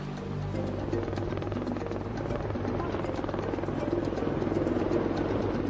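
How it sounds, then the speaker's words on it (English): A rescue helicopter arrives in the Himalaya to carry an injured man to hospital, its rotor chopping steadily with a loud, dense throbbing roar that holds for several seconds, close by and without a break. "A helicopter is the only option to get him to a hospital."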